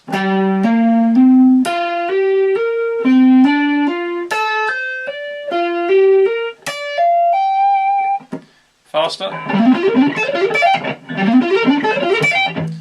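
Bright electric guitar notes picked in quick ascending runs with hammer-on slurs, a repeating melodic lick, followed by a faster burst of rapid picked notes.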